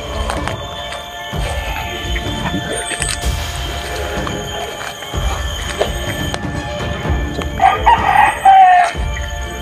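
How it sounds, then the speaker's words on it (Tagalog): Roosters crow repeatedly over a steady background hum, the calls rising and falling at moderate distance, with one louder crow near the end. "May mga manok na nagsigaw-sigaw."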